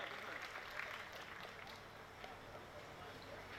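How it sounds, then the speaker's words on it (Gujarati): Audience applause at a community religious gathering for Shree Bhimnath Mahadev, heard as a steady, dense wash of clapping that holds at an even level for the whole stretch. "એમને પણ જોરદાર તાળીઓથી વધાવો"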